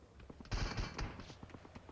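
Video game gunfire: a rapid automatic burst of shots rattles for about a second, fairly faint, followed by a few scattered single reports.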